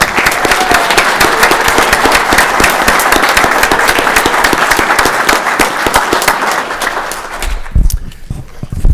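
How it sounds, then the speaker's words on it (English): Sustained loud applause from a large crowd at a town council meeting, dense and steady, tapering off near the end with a few scattered claps. "Please join me in giving a round of applause to each of these amazing people."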